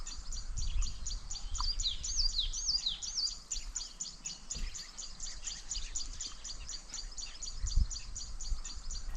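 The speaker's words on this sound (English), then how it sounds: "The Tiongonyene waterhole draws hundreds of birds and animals to its waters" Many birds chirp and call together in a busy, continuous chorus at a waterhole in Kruger, over a low outdoor rumble, with occasional thuds in the background.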